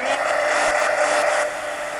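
A heat dryer blows a steady, whooshing whine up close while drying a mixed media art card, holding constant for the full stretch with a slight drop near the end.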